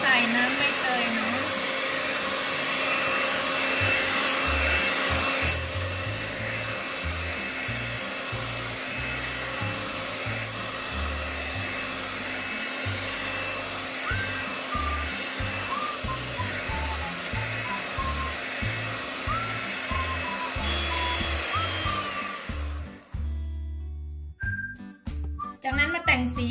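Electric mixer whirring through pandan cake batter for a no-bake rice cooker cake, a steady loud motor whine with shifting pitch and some rattling, then stopping near the end with brief clatter.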